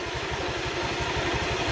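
A Honda Vario 150 scooter engine idles close by, with its oil changed to diesel oil mixed with cooking oil. It gives a steady, rapid low thumping pulse with a faint mechanical clatter, and no one speaks.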